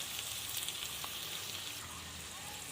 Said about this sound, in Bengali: এঁচোড়গুলো আমি একটু লাল লাল করে ভেজে নেওয়ার পরে এর মধ্যে আলুগুলো ভেজে নেব